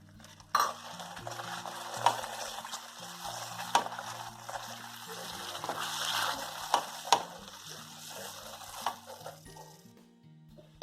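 Bhagar shira being mixed in a kadhai, soft stirring and scraping with a few sharp clinks of a spoon against the pan over a quiet sizzle, close up with no speech.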